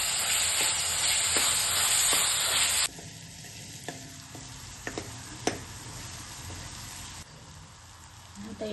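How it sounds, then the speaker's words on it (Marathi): Onion stirred and sizzling in oil with ginger-garlic paste for pav bhaji, a steady close frying hiss that drops quieter partway through, broken by occasional spoon scrapes and clicks, with no talking. "बघा आता अद्रक लसूण पेस्ट परतून घेतली. कांदा चांगला तेलकट परतायचा."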